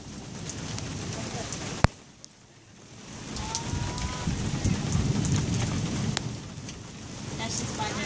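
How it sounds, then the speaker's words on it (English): Hail from a summer storm in Phoenix, Arizona pours down in a steady, dense roar near a garage, with one sharp close crack partway through and the downpour swelling again afterward. "That's a lot of hail that just came down."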